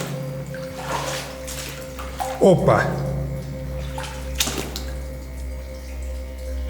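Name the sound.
water sloshing while wading through a flooded abandoned mine in Albania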